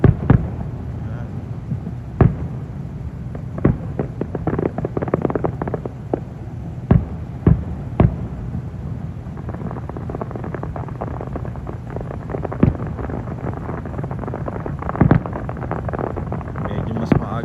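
Outdoor fireworks on a July evening, sharp distant bangs and pops scattered irregularly over a steady rumbling background with wind noise.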